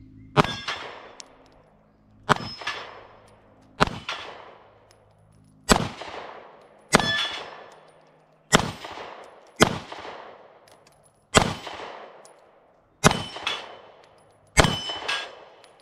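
Nine pistol shots from an SCCY CPX-2 Gen 3 at steel targets about 20 feet away on a range, each a sharp loud crack with a ringing metallic clang, fired at a slow, fairly even pace.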